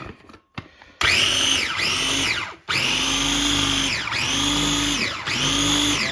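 Food processor whirring through basil pesto with oil in a home kitchen, loud and close, running in several bursts of a few seconds each, with brief pauses and a dip between pulses.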